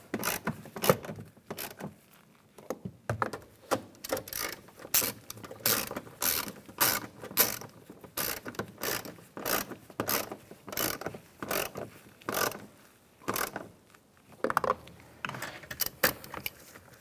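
A ratchet clicks in quick, uneven bursts while tightening the screws on an exterior door handle of a 2007-2013 Chevrolet Silverado, close and fairly quiet with short pauses between runs of clicks.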